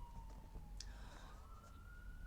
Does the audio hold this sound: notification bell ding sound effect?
no